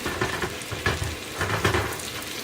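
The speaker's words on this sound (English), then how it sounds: "I'm just going to saute this a little more" Mahi mahi fillet sautéing in a hot pan, a steady crackling sizzle with soft bursts of spattering, close and moderately loud throughout.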